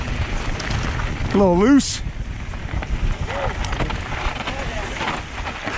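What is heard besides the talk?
wind noise while descending on a mountain bike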